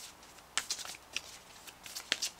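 A deck of guidance cards is shuffled close up, giving soft riffling flutters and crisp card slaps in an uneven rhythm, fairly quiet.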